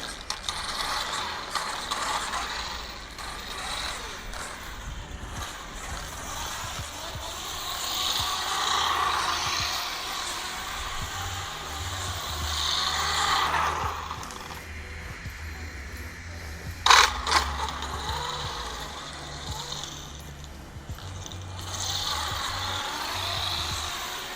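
A WL Toys 124019 RC car with a titanium driveshaft runs steadily, its motor and gears giving a continuous whirring, grinding drone at moderate distance, with one sharp clack partway through.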